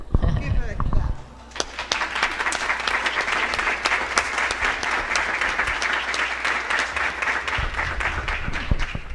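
After a brief stretch of speech, an audience at a lecture bursts into steady, dense clapping that carries on loudly to the end, with a voice emerging again near the close.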